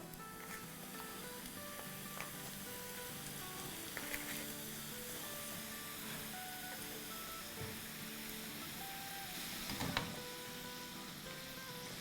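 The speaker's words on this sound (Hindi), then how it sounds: "अब हम इसको फ्राई करेंगे और निकालेंगे" Keema samosas deep-frying in hot oil on a medium flame, giving a steady, dense sizzle with fine crackles and a few brief louder pops, heard close by with no talking.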